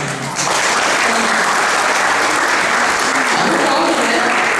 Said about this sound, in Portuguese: Vai lá, dá uma salva de palmas.